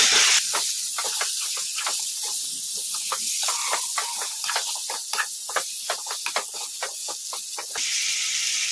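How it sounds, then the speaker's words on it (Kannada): Chicken frying on high flame in a pan, a loud continuous hiss with rapid bursts of sputtering and crackling pops, repeated stirring scrapes punctuating the sizzle up close. "ಅವಾಗವಾಗ ಕಲಿಸ್ಕೊಂತ ಫ್ರೈ ಮಾಡ್ಕೊಂಬಿಡೋಣ"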